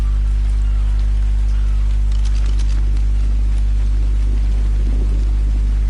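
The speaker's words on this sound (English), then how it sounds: "the reason why I'm cold is because it's raining" Rain falls steadily in the survival game ARK, a constant hiss under a heavy low hum, with no voices.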